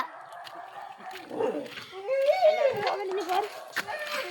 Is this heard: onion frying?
no